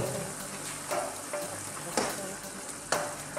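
Gisadong bihon noodles are stirred in a hot pan, sizzling and frying steadily with soft, regular scrapes of a utensil roughly once a second, close and fairly quiet.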